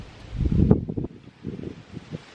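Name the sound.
wind blowing outdoors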